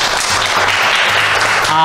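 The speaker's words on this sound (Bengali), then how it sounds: "হাততালি হোক টিম এর জন্য।" Scattered clapping from a small audience at a college quiz show, fairly close, with voices talking over it.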